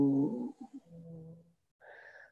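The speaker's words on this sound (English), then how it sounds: "when we exhale, we're going to breathe out the sound hu" A voiced, breathy exhale of the qigong healing sound "hu", a short close, low drawn-out breath that fades, followed by a brief tonal vocal sound.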